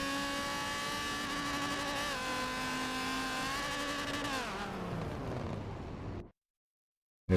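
A race car in Forza 7 at Brands Hatch holds a loud, steady engine drone through the final turn toward the finish, the pitch shifting and dropping as it winds down, then the sound cuts off abruptly.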